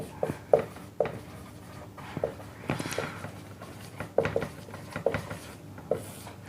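Chalk or marker writing on a board during a trigonometry lesson, a series of close, quiet scratchy strokes and taps in irregular bursts with pauses between words.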